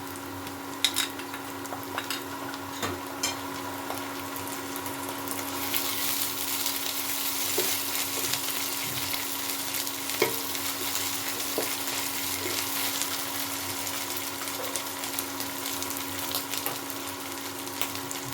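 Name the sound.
garlic paste sizzling as it fries in a pan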